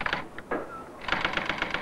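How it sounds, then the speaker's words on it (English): Rapid typewriter keystrokes in quick bursts, one short flurry at the start and a longer run near the end, with a brief gap between, close and moderately loud in a domestic setting. "how can I concentrate with you bashing and crashing? I'm typing."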